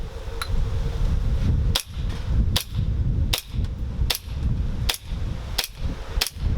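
A JAG Precision Pitviper airsoft gun fires a series of sharp snapping shots, about seven evenly spaced, loud and close, over a steady background hum with no talk.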